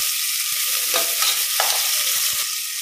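Two large onions fry in ghee inside a pressure cooker. A loud, steady sizzle runs throughout, with several distinct stirring scrapes and knocks against the pot. No one speaks.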